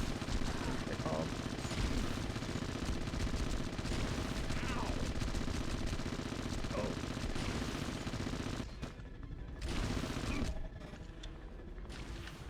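Rapid, continuous gunfire from a first-person shooter Red Faction multiplayer match with nano pistols, loud and dense throughout, with bursts overlapping and a brief dip near the end.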